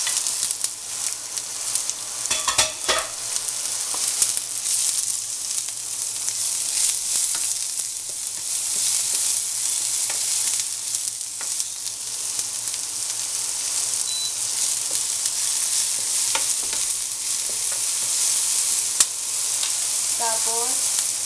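Onion fries in a pan, a dense, steady sizzle lasting throughout with occasional scraping from stirring.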